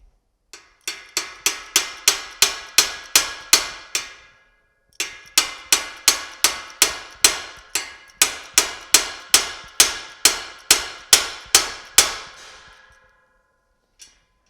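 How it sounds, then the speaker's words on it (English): Steady, ringing hammer blows drive a socket extractor onto a shallow button head bolt, about two dozen sharp metallic strikes in two runs, close and loud with a brief pause between them. "try to get it with the socket extractor is my first thing I want to try, because these are the real shallow button heads"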